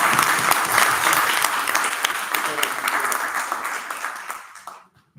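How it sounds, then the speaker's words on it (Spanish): Audience applause at an art exhibition presentation for Gustavo Grisoski, strong continuous clapping that gradually thins and dies away to silence. "Entonces creo que un aplauso."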